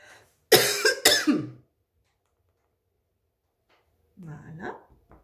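A person at a scrapbooking craft table coughs close to the microphone in a quick burst of a few harsh coughs, followed by silence and then a short spoken phrase.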